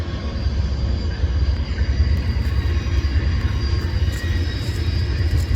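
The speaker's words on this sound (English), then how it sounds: "This Amtrak being the Amtrak number 4, I believe, the return trip of the Southwest Chief, with Amtrak 201 leading." Amtrak's Southwest Chief, train number 4, led by locomotive 201, rumbles past at Galesburg with a heavy, steady low roar of diesel and rolling wheels, loud and close throughout.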